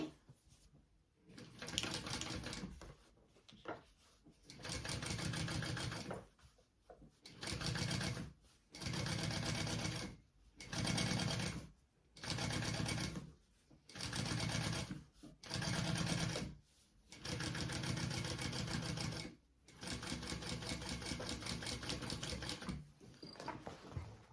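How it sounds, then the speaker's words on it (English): A sewing machine topstitches through a bag lining and seam allowance in a series of repeated bursts of rapid close stitching, each a second or two long, separated by short pauses. "we're top stitching through the bottom lining, or on the bottom lining, I should say, through that whole seam allowance"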